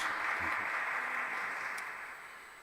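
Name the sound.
audience applause for the priest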